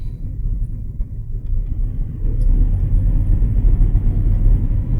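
A John Deere S770 combine idles up as its separator engages, a deep, close rumble of engine and machinery that steadily grows louder and fuller over a few seconds, with no talk.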